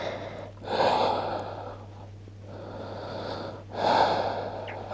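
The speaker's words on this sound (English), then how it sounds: "Take a couple of breaths here." Slow breathing during a Pilates child's pose, two long deep breath cycles close to the mic with airy inhales and exhales over a low steady hum, no talk.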